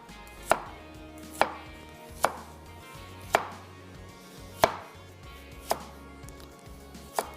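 A knife chops a red carrot on a board in eight sharp, evenly spaced strikes, each a crisp knock against the wood, with quiet pauses between and no talking.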